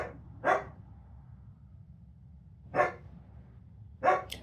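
A dog gives three short single barks, spaced a couple of seconds apart, at moderate distance over a quiet room hum.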